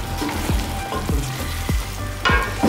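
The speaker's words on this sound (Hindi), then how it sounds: "मसाले डालने के बाद इसको हम भून लेंगे ज़रा सा" Spices for chicken biryani fry in hot oil with curry leaves, a steady close sizzle broken by several sharp scraping stirs of a spoon in the pan, no voices.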